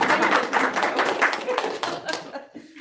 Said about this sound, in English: you can clap for her. Clap for her.